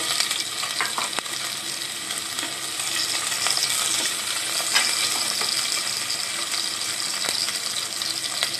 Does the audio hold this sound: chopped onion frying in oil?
yes